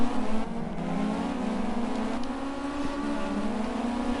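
Pack of Caterham race cars accelerating hard off a rolling start at Cadwell Park, a loud sustained engine roar with rising pitch and several overlapping engines, heard close and alone without talk.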